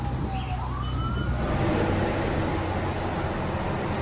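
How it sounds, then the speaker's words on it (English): A police siren wails through steady road and engine noise from a car doing 135 in the 2003 Gumball 3000 rally, its pitch sweeping up and holding, fairly distant under the rushing drone. "I hear a siren"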